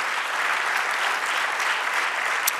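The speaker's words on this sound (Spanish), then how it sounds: "Dale el aplauso" A church congregation applauds during a worship service, steady dense clapping filling the room evenly throughout with no voices standing out.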